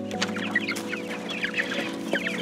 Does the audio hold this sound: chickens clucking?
yes